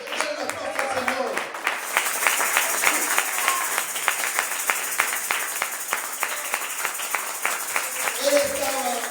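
A church congregation at a Sunday service claps in applause, a steady run of sharp claps across the hall at moderate level, with faint voices and some sound from the service heard at the start and end.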